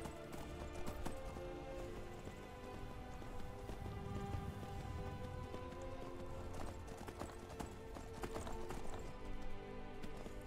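A horse galloping in the Skyrim video game, fast rhythmic hoofbeats clip-clopping steadily over game music and ambience, with no voices.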